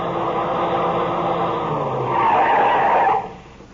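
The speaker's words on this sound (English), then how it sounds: "I heard the whine of a car coming over the rise in the rough road" Car engine whining as the vehicle comes over a rise on a rough road at night, a steady motor drone swelling into a brief squealing rise before cutting off, staged as a radio drama sound effect.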